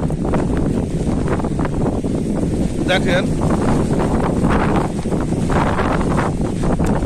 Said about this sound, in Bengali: শুধু বাতাস আর বাতাস এবং সেই সাথে বৃষ্টি।